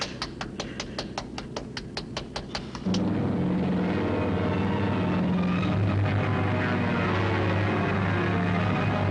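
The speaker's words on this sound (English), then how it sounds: "Big plane. Flying." A rapid regular ticking gives way to a steady, loud droning engine roar that holds on, like a propeller plane in flight.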